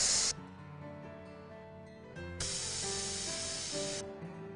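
A bear spray canister lets out a brief hiss at the start, then a longer, loud forceful spray burst of about a second and a half over faint background music.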